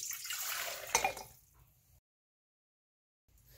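Warm water at 110 to 115 degrees poured into a bowl for soft pretzel dough, a short splashing, trickling pour that fades out and is followed by silence.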